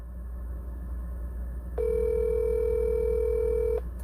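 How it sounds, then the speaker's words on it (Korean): A single long electronic ringback tone sounds for about two seconds over a low steady hum, then stops, with no answer and no talking. "뚜루루루루루 이러면 이거 안 받거든요"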